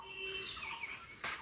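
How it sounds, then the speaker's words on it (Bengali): Birds chirp faintly in the open air around a home rooftop, a few quiet calls over soft background hiss. "পাখির ডাকগুলো দারুণ লাগছে"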